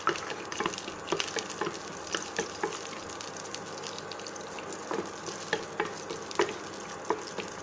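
Cashews and raisins heat in a spoonful of ghee in a frying pan, giving a soft, steady sizzle with scattered small pops and the occasional scrape of stirring, close by and with no talking.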